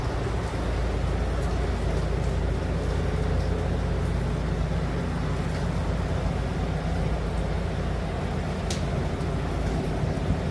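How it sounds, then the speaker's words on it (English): A loud truck motor passes by outdoors in a suburban Atlanta area during Tropical Storm Helene, a steady heavy low rumble with a chopping, helicopter-like quality that fills the whole stretch without easing off. "Sounds like a helicopter, but it's a truck. Very loud motor."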